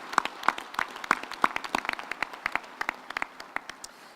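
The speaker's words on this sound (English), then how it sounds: "we also have to give our guest speaker a hand of applause." Graduation ceremony audience gives the guest speaker a round of applause: a thin, scattered spread of distinct handclaps, fairly close, with individual claps standing out in an irregular rhythm over a soft background.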